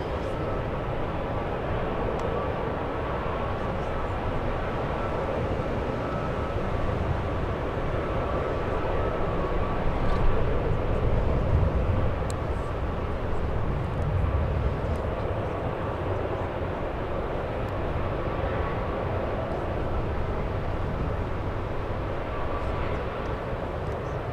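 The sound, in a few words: airliners arriving at San Francisco International Airport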